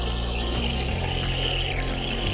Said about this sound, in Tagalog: Ang lakas ng tubig ah.